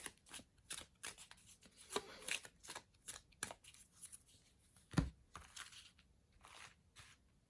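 Tarot cards being shuffled, a run of dry papery riffles and flicks in irregular bursts with a sharper tap partway through, close and fairly quiet with no talking.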